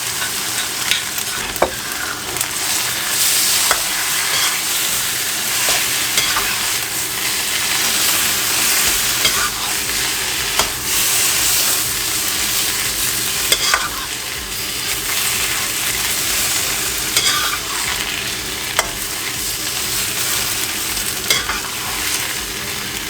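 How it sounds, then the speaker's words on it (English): Pad see ew noodles stir-frying with sauce in a hot pan, a loud continuous sizzle and hiss with frequent scraping strokes of stirring and tossing, close up and uninterrupted. "And you mix until the sauce is covered everywhere."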